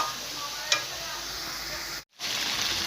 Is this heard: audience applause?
no